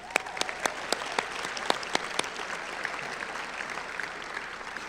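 Graduation audience claps throughout a high school ceremony, with sustained moderately distant applause and a few sharp, louder individual claps standing out near the start.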